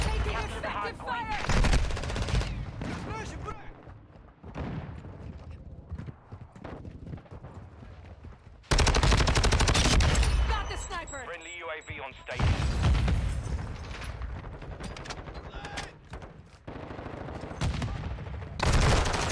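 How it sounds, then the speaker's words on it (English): Gunfire crackles through a Modern Warfare 2 match, with rapid bursts and single shots layered over loud game effects and radio-style voices, shifting in intensity across the stretch. "Targets at the hard point. Taking effective fire."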